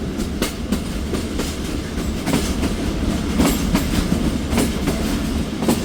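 The Thal Express passenger train rolls slowly across the Sohan rail bridge, its wheels beating out a close, continuous rhythmic clatter of repeated clicks over a deep rumble, with no one speaking.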